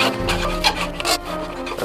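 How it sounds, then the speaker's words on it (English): Hand rasp and file scraping back and forth across a tomahawk handle made from a saw blade, a steady run of close, gritty strokes with no talking. "After using a rasp, use a file to clean out all the deep scratches."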